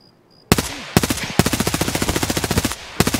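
Video game gunfire, loud and close: a few single sharp shots followed by a long rapid automatic burst of evenly spaced reports, then another shot after a brief pause.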